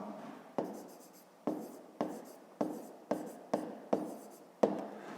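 Handwriting on paper, heard as a series of about eight short, close scratchy pen strokes, each starting sharply and fading, spaced fairly evenly with quiet gaps between.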